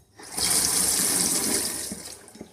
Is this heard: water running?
yes